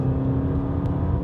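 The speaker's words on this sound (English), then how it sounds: "Audi have actually removed some of the sound deadening from the previous model so you can hear the engine more" Audi V8 engine holds a steady low, throaty drone at track speed, close and loud for a brief moment with no voices.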